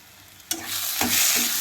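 Salt, turmeric and chili powder with other spices frying in an oiled pan for fish curry, a sudden loud sizzle bursting in and holding as a dense hiss with stirring accents, close by.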